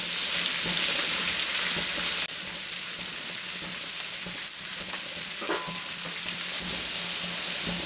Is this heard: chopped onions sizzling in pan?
yes